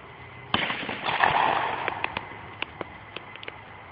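Shotgun fire at clay pigeons outdoors: a sharp crack at about half a second followed by a rolling reverberant boom, then scattered fainter cracks and pops, apparently distant shots across the range.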